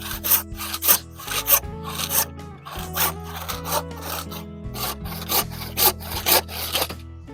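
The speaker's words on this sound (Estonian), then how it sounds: "Saeks kohe korraga ära 6 tükki." A hand saw cuts through wooden pieces for a bunk bed in a close, rhythmic series of rasping back-and-forth strokes, with brief pauses between the runs of cuts.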